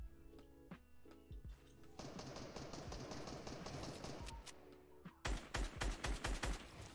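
Video game gunfire in an arena match, with sparse shots at first, then dense rapid bursts, and finally a louder burst of sharp shots near the end. No one speaks.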